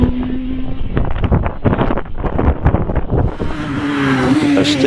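A small Radical race car at a British Championship hillclimb at Harewood passes close, its engine rising and falling over buffeting wind noise on the microphone.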